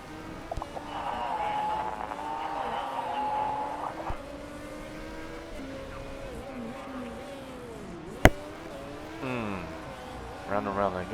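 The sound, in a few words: race cars circling the track in the video game Motorsport Manager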